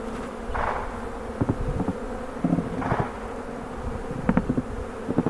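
Steady buzzing of honey bees being shaken into a hive, a close swarm hum with soft knocks and thumps scattered through it, no voices.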